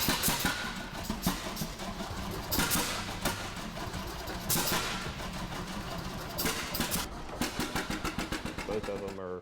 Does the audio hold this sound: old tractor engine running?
yes